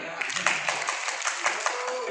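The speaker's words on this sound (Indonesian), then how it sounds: "Ya, tepuk tangan." An audience claps in a brief burst of scattered applause, moderately loud, with a voice speaking underneath, during a question-and-answer session on BPJS health and employment insurance.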